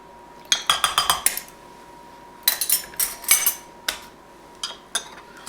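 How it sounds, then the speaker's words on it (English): A spoon clinks and scrapes rapidly against a container while stirring a homemade dish soap mixture with vinegar, in two bursts of quick metallic taps separated by a pause, then a few isolated knocks, close and without talk. "so I'm going to stir these for a while"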